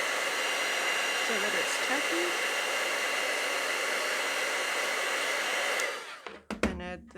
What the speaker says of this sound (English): So we'll just heat that up